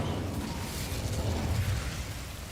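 A fire spell named Incendio cast in a Harry Potter video game, giving a dense, roaring whoosh of flame that holds steady for a couple of seconds before easing slightly, with no voices.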